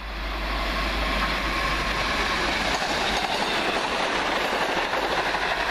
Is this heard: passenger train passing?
yes